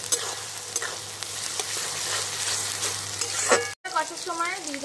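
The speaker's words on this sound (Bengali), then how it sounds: "দিয়ে একটু ভালো করে কষে মতো নেব।" Ginger, green chilli and garlic paste sautéed in a pan with capsicum, tomato and onion, a steady close sizzle with repeated stirring scrapes and a low hum, cut briefly near the end before a voice speaks.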